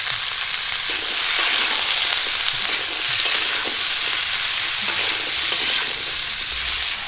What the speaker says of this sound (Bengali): লবণ হলুদ দিয়ে ডাটাগুলো একটু ভেজে নেব